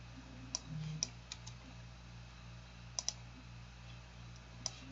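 Sharp, faint computer mouse clicks sound during 3D CAD midsurface modelling, scattered singly and in quick pairs over a quiet background hum.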